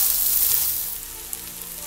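Rice frying in a pan gives a steady, close sizzle with a bright, hissing crackle that holds throughout and eases slightly toward the end, with one small clink partway through.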